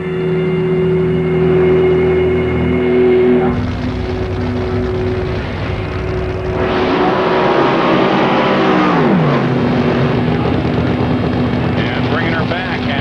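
A John Force drag racing car rumbles and revs loudly after its burnout, engine tone rising and falling close by, with a voice talking over it.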